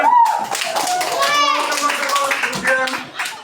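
Schoolchildren clap their hands in a classroom, a short burst of mixed claps heard under and among children's voices talking and calling out close by.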